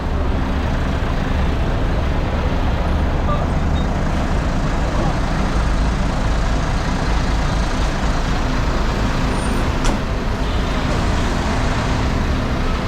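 A bus idles at a bus stop on a trip to Cox's Bazar, with a steady, loud engine rumble and road-traffic noise around it and a faint brief clank near the end.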